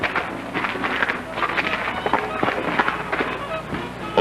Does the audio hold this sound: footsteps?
yes